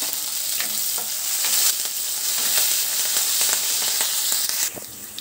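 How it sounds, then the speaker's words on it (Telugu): Cumin seeds, chopped ginger, garlic and green chilli frying in hot oil, a steady bright sizzle with occasional pops and stirring scrapes, close and continuous for a few seconds. "ఇప్పుడు దీంట్లో జీలకర్ర, అలాగే అల్లము, పచ్చిమిర్చి తరుగు, అల్లము వెల్లుల్లి తరుగు, అలాగే పచ్చిమిర్చి ముక్కలు వీటిని మనం వేయించుకోవాలి"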